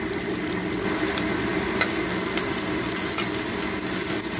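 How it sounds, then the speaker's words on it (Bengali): Onions frying in a pan for a mutton curry give a constant dense sizzle throughout, with a few faint scrapes of stirring above it and no talking. "ভালো করে একটু নেড়ে দিলাম দেখো পেঁয়াজগুলো কিন্তু বেশ লাইট ব্রাউন হয়ে গিয়েছে"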